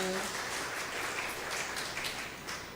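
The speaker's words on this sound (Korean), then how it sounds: "그분을 위해서 박수 한번 쳐주셨으면 좋겠어요" A church congregation claps for a deaconess during a sermon on intercessory prayer, the applause steady and moderately loud across the whole stretch, with faint voices mixed in at the start.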